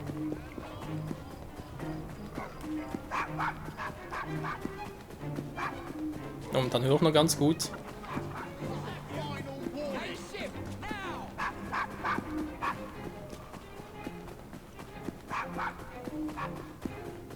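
A dog barks a few times amid game-like background sounds and hoofbeats in Assassin's Creed Syndicate, with someone talking over much of it.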